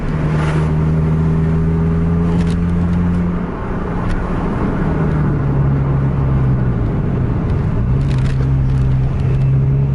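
A bus engine pulls hard on a race circuit in Aceh, a loud, steady drone whose pitch holds, dips briefly and then climbs again, with road roar and mechanical rattle filling the whole stretch and no talking.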